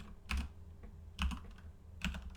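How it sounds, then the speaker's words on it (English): CSS code being typed on a computer keyboard: three quick clusters of crisp, close key clicks separated by brief pauses, quiet and with no voices. "I'm going to type in background"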